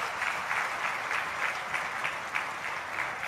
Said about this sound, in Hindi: तालियां बजाकर सेना के जवानों का अभिनंदन किया जाना चाहिए।